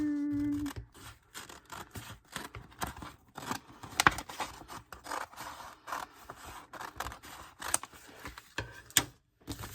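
Scissors trim paper for a junk journal in a run of close, crisp snips and scraping cuts, with a short hum at the start and a quiet moment between strokes, no voices.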